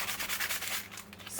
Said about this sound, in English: I've got a sanding block here,